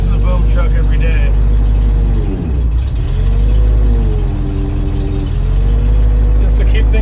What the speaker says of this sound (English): Start the vehicle up and get some of your fluid pumping around